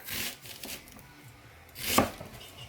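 An onion being chopped with a knife on a cutting board, a few scattered soft cuts followed by one sharp, louder chop near the end, close up with no talk.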